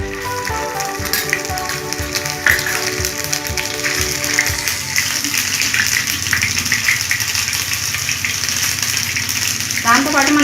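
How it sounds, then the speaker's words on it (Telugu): Ginger garlic paste spits and sizzles in leftover deep-frying oil for a chicken pickle, a loud steady crackle filling the whole stretch, with a rising hiss swelling near the end. "ఇప్పుడు ఈ మిగిలిన ఆయిల్లోనే డీప్ ఫ్రై చేసిన ఆయిల్లోనే one spoon ginger garlic paste వేసుకోవాలి"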